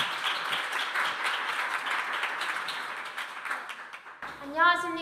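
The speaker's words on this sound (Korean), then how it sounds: "그러면 큰 박수로 맞이해 주시면 감사드리겠습니다." Audience applause welcoming a speaker at a Seoul youth speech contest, a dense steady wave of clapping from a crowd of listeners that fades and gives way to a voice at the end.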